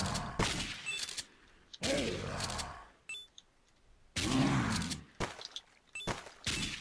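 Several loud gunshot bursts from the zombie shooter video game Dead Pixels, fired in irregular bursts with short silent gaps between them.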